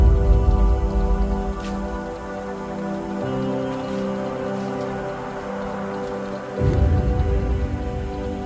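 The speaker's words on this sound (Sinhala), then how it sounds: "එතකොට වහින්න ගත්තා." Steady rain pours down at a campsite on Dolukanda mountain, a dense continuous patter close by with a low rumbling undertone that swells again near the end.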